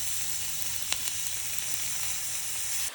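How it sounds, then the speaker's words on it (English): Shrimp sizzling with shallots in a hot pan for a Mediterranean dinner, a steady bright hiss throughout with a couple of faint clicks, no one speaking. "I'm gonna go ahead and add our shrimpies to the pan."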